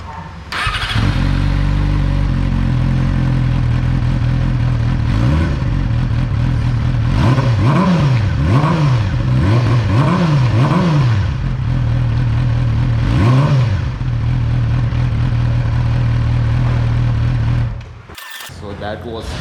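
A Yamaha R6 motorcycle engine starts and idles steadily, with several sharp revs rising and falling in quick succession before settling, then cuts off near the end; close and loud throughout.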